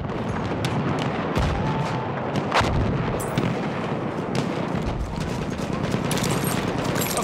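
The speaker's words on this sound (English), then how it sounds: "Machine gun over there!" Dense gunfire and artillery blasts in a war video game, rapid overlapping shots and booms filling the whole stretch, loud and continuous, with a voice shouting briefly in the mix.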